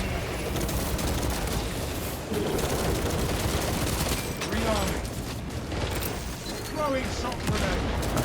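Pistol fire in a Warhammer Space Marine video game aimed at a Hive Tyrant, rapid bursts of shots and mechanical clatter under busy game noise and a voice talking over the action.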